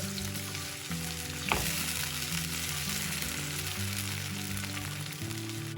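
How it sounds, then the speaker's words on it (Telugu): Medium-sized tomato frying in a pan for a roasted gram chutney, a steady close sizzle with one brief clatter of stirring partway through, no talking. "దీనిలో ఒక మీడియం సైజ్ టమాటాను వేసి వేయించుకోండి"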